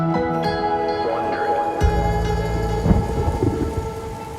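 Rain and thunder sound effect: steady heavy rainfall with a loud thunder crack and rumble partway through, rolling on beneath a soft sustained musical tone.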